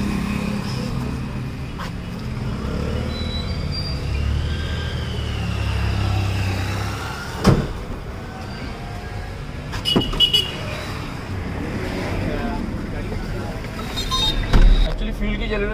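An automatic car fitted with a CNG kit driving on a test ride: a steady road and engine rumble heard from inside the cabin, with a few thumps along the way and people talking over it.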